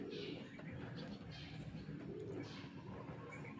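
Pigeons fly past outdoors during a racing-pigeon event in Umingan, Pangasinan, with soft cooing and bird calls over steady background noise.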